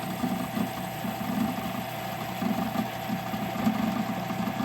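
A sway bar bushing for a NASCAR Craftsman Truck build is turned down to 1/4 inch on a lathe, a steady mechanical hum with a faint pulsing whir, close and continuous with no talk.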